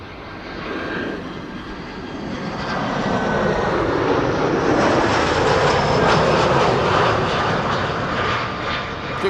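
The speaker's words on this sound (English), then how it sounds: "ITA Airways flight 120 arriving from Milan, A319." An ITA Airways Airbus A319 on arrival at Amsterdam Schiphol passes with a broad, loud jet roar that swells over several seconds and holds steady, a whining tone on top, no voices heard.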